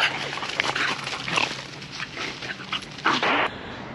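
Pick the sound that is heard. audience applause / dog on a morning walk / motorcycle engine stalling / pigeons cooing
dog on a morning walk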